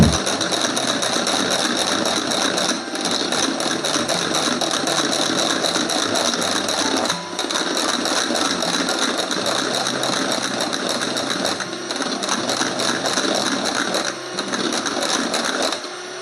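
An electric mixer beats cream for a cake, a loud, steady whirring drone with rattling motor noise that runs continuously, dipping briefly a few times.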